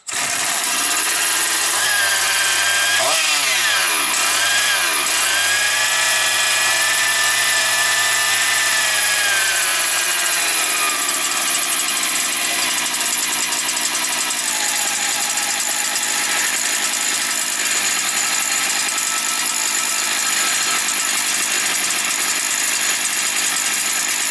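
A Motor Sich 270 engine runs loud and steady right after starting, its pitch wavering and settling in the first seconds before holding a constant, droning roar close by.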